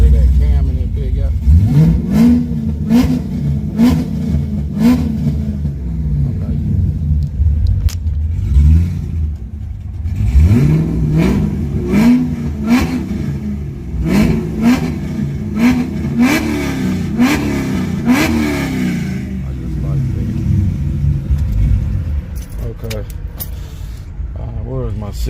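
A big cammed car engine rumbles loudly with a lopey idle and several sharp revs, close to the listener, while people talk over it.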